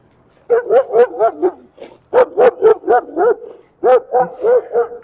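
A dog behind a fence on a city street in Regina barks in several quick bursts of four or five loud, close barks with short pauses between them, carrying clearly over faint outdoor background.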